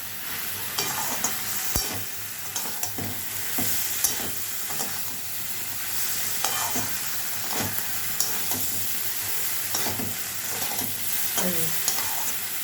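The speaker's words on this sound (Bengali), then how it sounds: "এবার ভালো করে নাড়বো, নেড়ে একটু ঢাকা দিয়ে দেবো।" Kochu loti cooking in a pan with fish oil, stirred repeatedly: a steady bright sizzle and hiss runs throughout, broken by regular scraping stir strokes, with no voices.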